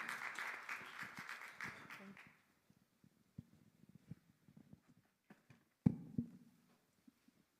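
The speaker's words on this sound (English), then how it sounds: "let's give one more round of applause to Chris, but also to all of our presenters for the spotlight." Audience applause for presenters at a university diversity showcase event, a brief spread of clapping that fades within about two seconds, followed by near silence with a few scattered faint claps and small noises.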